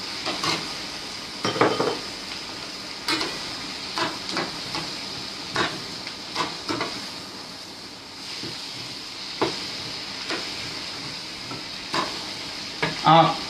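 Tomatoes stirred in a hot pan of onions for a makhani gravy, with steady sizzling and frying hiss broken by repeated clinks and scrapes of a spoon against the pan.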